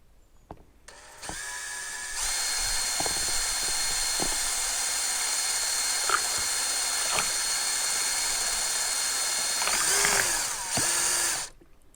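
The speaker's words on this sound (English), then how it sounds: "So now we're going to put our stirring paddle into our drill." A power drill fitted with a stirring paddle mixes a can of stain, whirring steadily for several seconds after a few short starts, with faint knocks and scraping as it turns, then winds down.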